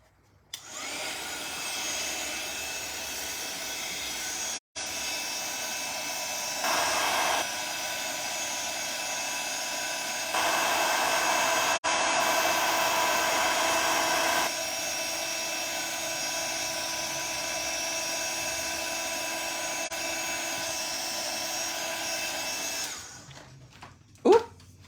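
A heat gun melts embossing powder on a handmade card, a steady loud whirring blower drone with a few surges in intensity, running almost the whole time before cutting off near the end.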